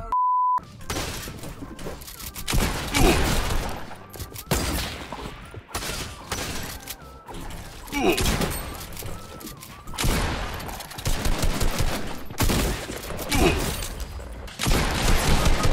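Rapid bursts of Fortnite gunfire from a FAMAS rifle and an SMG crackle in repeated loud volleys with brief gaps between them, sharp and close throughout, opening with a short electronic beep.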